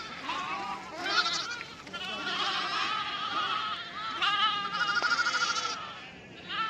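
A flock of sheep with lambs bleats on a rural Maharashtra grazing route, many overlapping cries near and far running continuously, with no talk.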